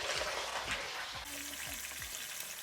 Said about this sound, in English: you wanna hear that nice aggressive sizzle